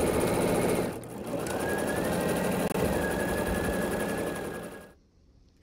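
A sewing machine runs steadily while stitching an inner border onto a pieced quilt top, a loud continuous mechanical whir with a brief dip near the start, then stopping abruptly near the end.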